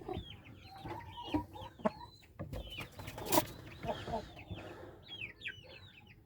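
Old fighting-breed hens, one about seven years old, cluck in short, irregular bursts nearby, soft murmuring calls with quiet pauses between them.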